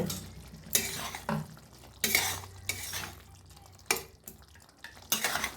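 Soybean chunk curry being stirred in a pan, with a spoon scraping in short, separate strokes and a soft simmer underneath.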